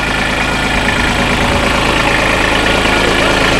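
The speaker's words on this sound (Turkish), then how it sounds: "Traktör bu, yavaş gider." A tractor engine chugs slowly at a steady low idle-like pace, a continuous mid and low rumble heard alone and close throughout.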